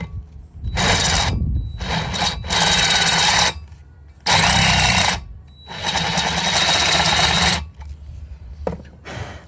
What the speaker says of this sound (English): I'm just going to drill one step down.